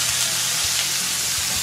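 Thick snow goose breasts cook in a hot pan, giving a loud, dense, continuous sizzle with a faint low hum underneath and no voices.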